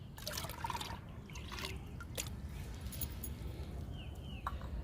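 Water poured into a dark liquid of tea powder and egg powder being diluted as a plant feed, a steady soft trickling and dribbling with faint splashes, close and continuous with no talking.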